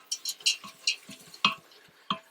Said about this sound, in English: I'm going to take this rice and sort of roast it, saute it in the pan here for a minute.